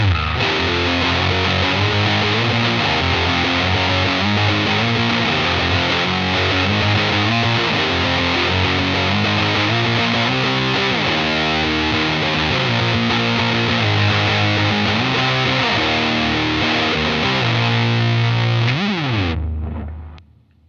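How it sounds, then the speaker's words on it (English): An electric guitar plays chords through a thick, buzzing traditional-style fuzz pedal, loud and sustained, with the final chord sliding down and cutting off near the end. "I'm using that as a more kind of traditional style fuzz."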